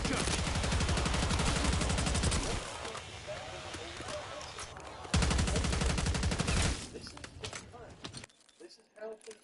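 Shotgun blasts and rapid gunfire sound in a video game, loud dense bursts broken by quieter stretches of background noise while a voice speaks over parts of it.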